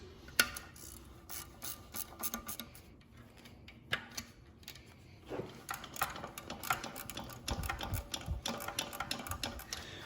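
A wrench works loose the bolts on a Fiat 500 Abarth exhaust manifold, giving irregular metallic clicks, ratcheting ticks and scraping taps close by, quiet between bursts.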